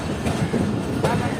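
The Karakoram Express passenger train runs along the main line, heard from on board as a steady, loud rumble with rhythmic clickety-clack of wheels over rail joints throughout.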